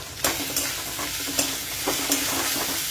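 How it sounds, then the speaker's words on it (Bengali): Chopped tomato with salt and spices frying in a pan in a home kitchen, a steady close sizzle broken by several sharp scraping stirs of a utensil. "মশলাটা ভালো করে একটু কষে নিই।"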